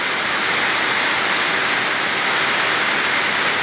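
Steady rain falls at midday, a dense, even hiss of water with no pauses, fairly loud and close, and no voices over it.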